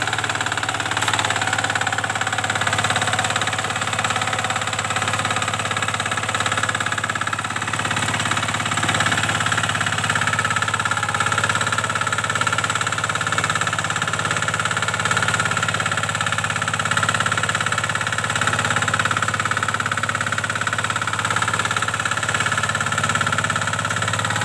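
Impala tiller engine running on farmland, a loud, steady mid-pitched idle with a continuous low throb and slight knocking vibration, unchanging throughout without voices.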